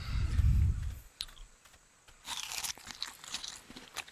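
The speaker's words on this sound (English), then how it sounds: "for those that don't hear that little crunching noise, that's me feeding him my character food" A dinosaur in the ARK video game crunching on food: a loud low thump at the start, then a few sharp clicks and a burst of close, crisp crunching and chewing, with no talking.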